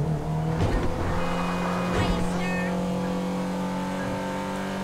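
A car driving in GTA V Online with a steady engine drone and tonal whine, brief tire or collision noises at moments, and low voices talking underneath.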